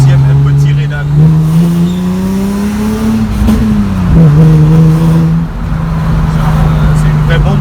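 A tuned car with a responsive engine revs and accelerates hard in second gear, pitch climbing then dropping as gears shift, loud and close, with voices speaking over it.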